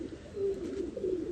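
A nesting pigeon of a lal-kettu lineage coos in low wavering tones, near and steady, with no talk.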